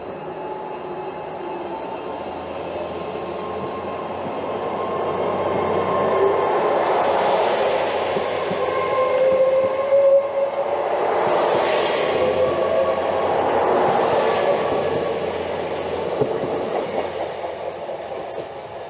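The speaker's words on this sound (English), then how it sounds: "First up we have GWR Class 802 802011 departing with a Bristol Temple Meads to Penzance service." A GWR Class 802 train, unit 802011, departs Hayle station on a Bristol Temple Meads to Penzance service, its engine and wheel rumble swelling steadily and holding loud as it pulls away, with no voices.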